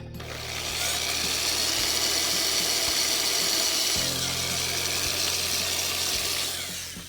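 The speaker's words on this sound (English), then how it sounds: "I'm using my 5/64 inch drill bit." A power drill with a 5/64 inch bit whirs steadily for several seconds, boring a small hole, with a slight change in pitch midway and brief pauses at start and end.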